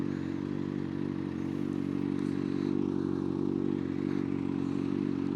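A 2025 Kawasaki ZX-6R is ridden while practising rev matching, its engine droning loud and constant throughout with small shifts in pitch.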